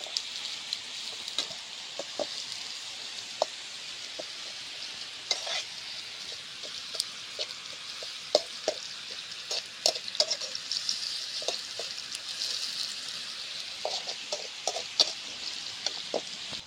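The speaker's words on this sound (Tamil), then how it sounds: "இப்போ வந்து வெங்காயத்தை போட்டு வச்சுப்பா. எண்ணெய்லாம் இது வந்து பொன்னிறமாக வர வரைக்கும் நல்லா வதங்கணும்" Onions fry in oil in a pan for a liver gravy, making a soft, steady sizzle and crackle. Frequent small pops and stirring scrapes come through the sizzle, close by and fairly quiet, with no talking.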